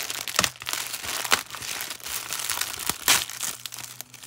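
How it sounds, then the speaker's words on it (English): A mail package is being ripped open by hand. Its crinkly plastic or paper crackles and tears in irregular bursts close by, with sharper rips at intervals. "I'm just gonna rip this open."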